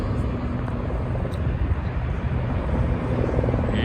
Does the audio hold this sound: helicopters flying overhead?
yes